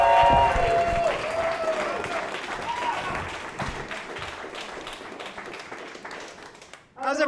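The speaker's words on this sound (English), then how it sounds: "Let's keep that round of applause going for Chris Wright." Audience applause for stand-up comedian Chris Wright, dense clapping loud at first that gradually thins and fades over several seconds, with crowd noise and a voice talking over it.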